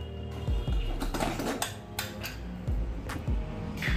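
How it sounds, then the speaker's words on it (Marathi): A cooled pressure cooker, used for a sponge gourd vegetable curry, is opened, with a few sharp metallic clanks and scraping knocks of the lid against the pot, close and clear, with no voices. "आपला कुकर इथे गार झालेला आहे। आता मी त्याला उघडून पाहणार आहे।"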